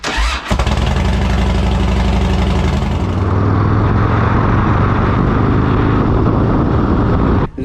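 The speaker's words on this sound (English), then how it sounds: "First start after the engine rebuild" A rebuilt Harley-Davidson motorcycle engine cranks briefly, catches and roars to life, then settles into a loud, throbbing idle with a steady low rumble, close up and with no talk.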